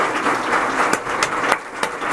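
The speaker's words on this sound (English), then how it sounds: "Let's give them a big clap," Audience applause at a UFOLOGY World Congress conference in 2017, a steady wash of clapping with a few sharper claps standing out, moderately loud and continuous without voices.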